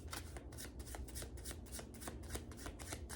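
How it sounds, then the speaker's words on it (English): Close, rapid shuffling of a tarot deck, a dense run of rhythmic papery flicks and riffles repeating steadily throughout. "One more. Shuffle them really good."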